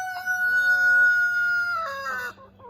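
Rooster crowing loud and close, a long sustained call with clucking hens around it as a flock of chickens gathers at a shaken feed bucket.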